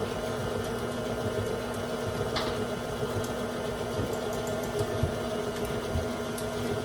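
An electric mixer whirs steadily through eggnog cookie batter with vanilla and wet ingredients, a continuous motor hum that holds even and moderately loud for the whole stretch, with no talking.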